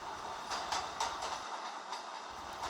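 A subway train rumbles and rushes in a steady, moderately loud wash of noise with faint rhythmic clatter, no voices.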